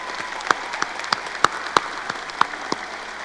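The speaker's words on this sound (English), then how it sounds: "Let's give both of these deserving students one more big round of applause." Applause from a crowd at a 2025 community college commencement ceremony honoring two students, a steady wash of many hands clapping with a few sharp, louder individual claps standing out, moderately distant and sustained throughout without talk.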